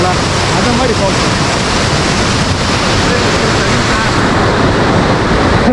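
Marmala waterfall near Teekoy in the mountains, a loud, steady roar of rushing, falling water that fills the whole span without a break, with wind noise against the microphone mixed in.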